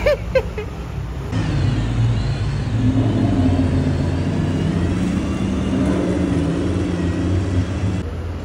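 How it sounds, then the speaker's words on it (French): An Aston Martin Valkyrie supercar drives past on a Monaco street during the historic Grand Prix, its loud engine rising into a sustained close roar that holds for several seconds before cutting off. "Oh les gars, regardez ce qui arrive. Aston Martin Valkyrie."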